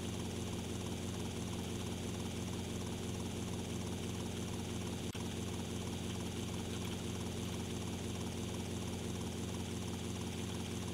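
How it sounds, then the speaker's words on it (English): A helicopter in GTA Vice City drones steadily in flight, its constant rotor and engine whir loud and unbroken from start to finish with no voices. "now we'll just take the heli back to save old Lance here"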